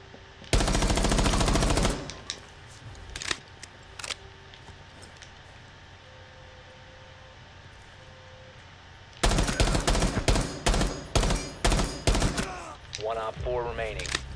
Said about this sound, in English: He don't know where I'm shooting his ass from.